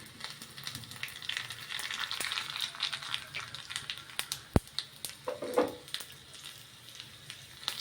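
Curry leaves, mustard seeds, cumin and asafoetida sizzle in hot oil for a tempering, a close crackling hiss dotted with sharp pops and spatters.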